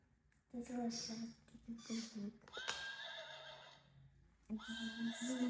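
Repeated electronic-sounding horse whinnies from a toy, several bursts with short pauses between them, fairly close.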